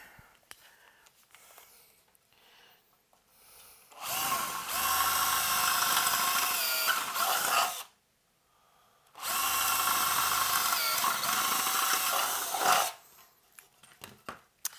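A power drill whines through a metal amplifier chassis in two sustained bursts of about four seconds each, separated by a short pause, stepping up drill sizes.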